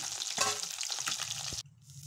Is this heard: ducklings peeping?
no